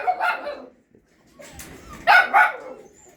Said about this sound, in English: That's a weenie puppy.